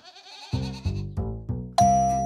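A goat bleats in a few short, wavering calls, then a run of four evenly spaced, resonant pulses follows and ends on a brighter ringing tone; close and clear, with no talk.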